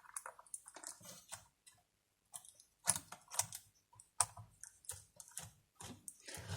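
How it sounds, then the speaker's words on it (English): Flat screwdrivers working the small screws out of a Moser 1400 hair clipper, giving close, irregular clicks, ticks and scrapes in short bursts with a brief pause midway. "we'll start by removing those two screws"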